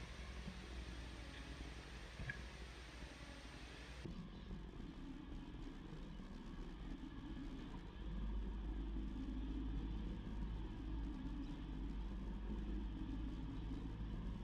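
A 1947 Ford Deluxe Tudor sedan pulls away and drives on, its engine a low, steady rumble heard from inside the car that grows slightly heavier partway through, faint and even with no talking.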